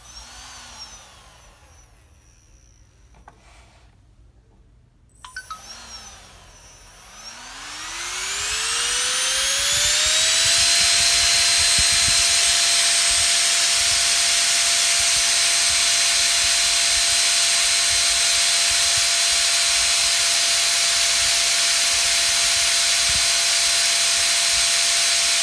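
A small brushless motor built from an old hard disk drive runs up after a few short starts, its whine climbing steeply in pitch and then holding as a loud, steady high-speed scream, with no talk.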